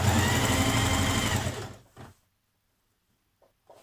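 A sewing machine hems a shirred Burda 6228 dress with a double fold, humming steadily up close for about a second and a half before stopping, followed by a few faint handling clicks.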